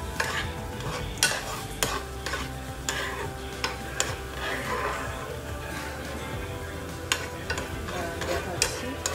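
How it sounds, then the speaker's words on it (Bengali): Cumin, dried chilli and garlic frying in ghee give a steady close sizzle, with scattered sharp clicks and scrapes of a spoon against the pan and a low murmur beneath. "এই যে লঙ্কা আর জিরে গুঁড়ো আর রসুন আর ঘি দিয়ে ঘিয়ের মতো ভেজে নিচ্ছি"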